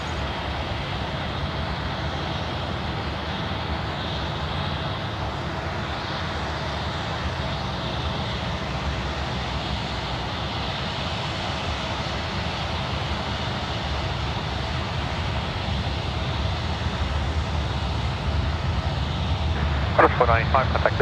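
A Qantas airliner takes off at Sydney airport with a steady, broad jet roar that stays loud throughout, while voices talk over it.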